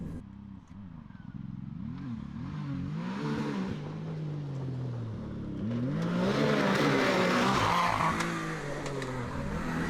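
Can-Am Maverick R off-road side-by-side driving hard, its engine droning and swelling continuously with rising revs and louder acceleration in the second half, close and loud throughout.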